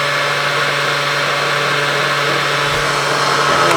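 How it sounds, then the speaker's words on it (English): An old blender churns cottage cheese on a set, giving a steady, loud motor whir with a constant hum throughout and no voices over it. "this is it's an old trusty blender here that we are rocking it and rolling with here on set"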